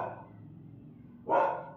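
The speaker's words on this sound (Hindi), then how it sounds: "कोको मेरा इतना भौंक रहा है" A pet dog barks indoors in a home: a muffled bark at the start, a pause, then one loud, close bark near the end.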